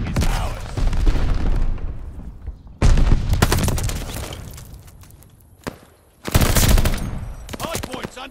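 Gunfire around a contested hardpoint in Call of Duty: Vanguard, with bursts of automatic fire and heavy shots in several loud clusters, separated by decaying echoes and brief lulls.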